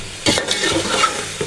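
Chicken pulao ingredients frying in a hot pot while being stirred, with a steady sizzle broken by several scraping stir strokes, close and fairly loud, no voices.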